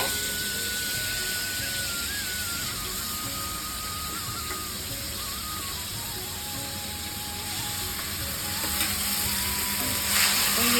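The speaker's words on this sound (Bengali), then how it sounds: "কষানো হচ্ছে" Eggplant being sautéed in oil in a pan: a steady, close, broad sizzle with light stirring and scraping, continuing evenly and swelling slightly toward the end.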